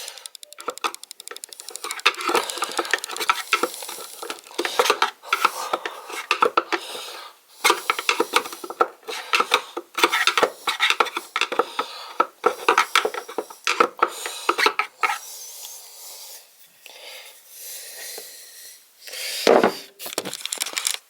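Screwdriver scraping and picking dirt out of the bottom corner of a Polaris RZR 570 air box, a close series of irregular clicks, taps and scratchy scrapes with brief pauses, no talking.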